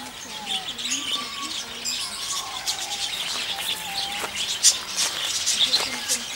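Birds sing in Thabor park in Rennes, including a parakeet and a collared dove. Overlapping chirps, whistled calls and soft coos come from several directions at once, forming a lively, steady chorus.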